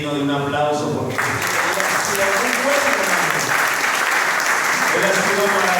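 A church congregation breaks into applause after a sung or spoken phrase, thick sustained clapping filling the room close and loud, with voices mixed in underneath.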